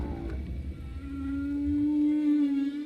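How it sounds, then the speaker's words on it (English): A male humpback whale singing during the breeding season, recorded from a boat at sea: a long sustained low moaning tone swelling and holding for a couple of seconds, alone over a faint rumble. "We know that humpback males sing during the breeding season."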